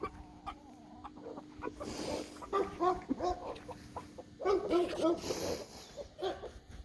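A rooster on a homestead makes several short clucking calls in uneven bursts, close and moderately loud, with a person talking and other farm sounds around it.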